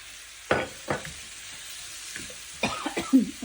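Carrots and onion sauté in a pan with a soft background sizzle, punctuated by a few sharp scraping stirs and a short burst of spoon-on-pan activity toward the end, with no talking.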